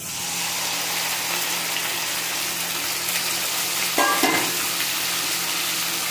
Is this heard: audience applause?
no